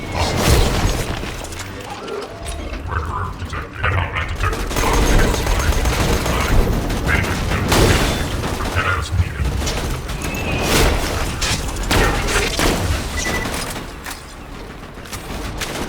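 Gunfire in Borderlands 2, with repeated shots and bursts crackling throughout over a busy backdrop of mechanical game noise.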